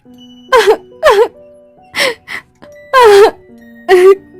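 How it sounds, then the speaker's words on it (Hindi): A voice wails and sobs in a haunting horror-story scene, five or six drawn-out, quavering cries with short gaps between them, close and loud over faint chiming tones. "तभी उसको वही रोने की आवाज सुनाई दी"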